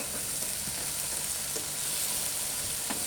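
Chicken pieces frying in a pan in a school kitchen, a steady even sizzle with a few faint ticks and taps, close and continuous, nobody speaking.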